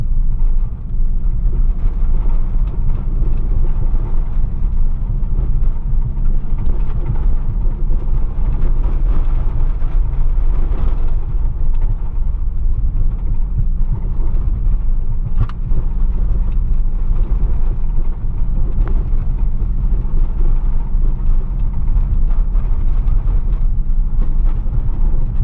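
A car rolls slowly, at about 40 km/h, along a rough sandy road between Bobrynets and Dolynska in Kirovohrad region, a loud continuous engine and road rumble from inside the cabin with bumps and rattles throughout.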